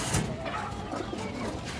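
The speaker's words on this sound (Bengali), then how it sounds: "এই দেখেন দর্শক, নটটা ডাকাডাকি করতেছে" A male Black Nun fancy pigeon cooing close by in a loft, with soft repeated murmuring calls over a steady background hum.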